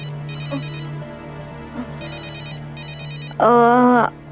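A mobile phone ringtone chimes in repeated short electronic bursts at a steady rhythm, ending in a louder final phrase, in a home scene. Faint voices are heard beneath it.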